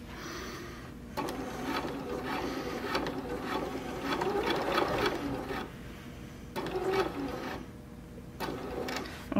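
Sewing machine stitching a bust dart in fabric, running in steady mechanical bursts separated by short pauses, close and moderately loud, with no talk over it.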